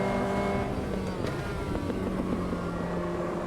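Caterham race car engine in the racing game Automobilista 2, a steady buzzing drone with harmonic tones shifting as it takes a difficult corner, loud and continuous with no talk.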